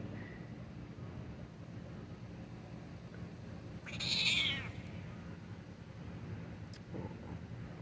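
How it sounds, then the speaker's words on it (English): A cat gives a single clear, drawn-out meow midway through, against a steady low hum of passing traffic in the background. "What a beautiful kitty you are, Jujube."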